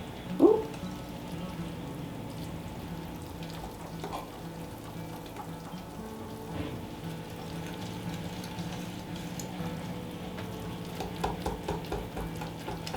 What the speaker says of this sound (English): now I'm just going to whisk this all together, and it's going to be a kind of a thick batter